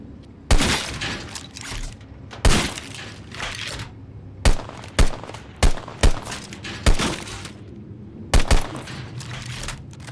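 Gunfire rings out during target practice in the shooter game Deadrop, with roughly a dozen loud, sharp shots in spaced single cracks and quick pairs over steady game background noise.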